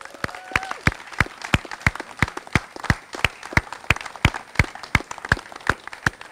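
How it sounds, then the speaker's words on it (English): Applause for a senator at an outdoor riverfront bridge dedication: a thin crowd sound with many crisp, individual claps ringing out in a quick, uneven rhythm, some landing close and loud. "please give a hearty round of applause to Senator Tom Carper"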